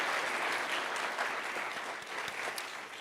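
Audience applause fills a startup pitch competition hall after a team's presentation, a steady, dense clapping from many hands that holds at an even level throughout.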